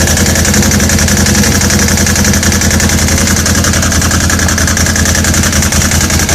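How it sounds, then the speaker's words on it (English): A 2012 Can-Am Outlander 800 Max XT ATV engine idles steadily and loudly up close, a constant mechanical drone with no speech. "I'm going to start the bike up."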